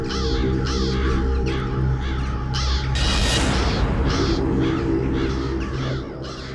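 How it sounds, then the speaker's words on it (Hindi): Many crows cawing loudly together in overlapping harsh calls, a dense repeated chorus over a steady droning background. "इतने सारे कौवे इस वक्त?"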